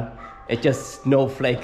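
A dog whines and yips from inside a house, high thin cries in short bursts, close and fairly loud, overlapping with a person talking nearby.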